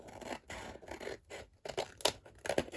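Scissors cutting paper while making a Dollar Tree junk journal, with several short snips and crisp rustling scrapes in an uneven rhythm, close and fairly quiet, with no talking.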